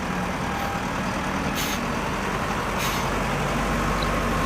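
A cartoon truck's engine rumbles steadily and loudly near an excavator at a construction scene, with two short hissing bursts of air brake released over the continuous drone.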